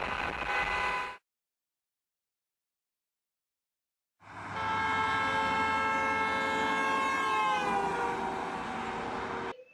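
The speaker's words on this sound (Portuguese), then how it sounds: "As the car passes me, it's going to blow its horn." A passing car blows its horn: a short blast, a pause of about three seconds, then a long sustained honk whose pitch falls as the car goes by.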